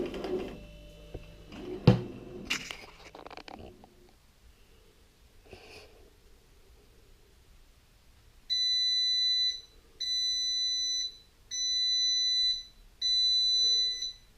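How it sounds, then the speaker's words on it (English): A bread machine's buzzer signals that the dough is ready, sounding four evenly spaced bursts of shrill beeping after some clattering handling noises and a quiet pause. "that's the little buzzer going off to tell us it's now ready to remove it from the baking tin"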